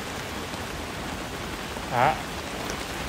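Heavy rain with strong wind on a July afternoon in Vietnam, a steady, even hiss of downpour throughout, with one brief voice cutting in near the middle.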